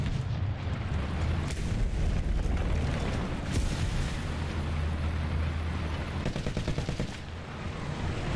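Artillery explosions in the War Thunder video game: a continuous low rumble with scattered booms and cracks of shelling throughout, some close and sharp, others distant.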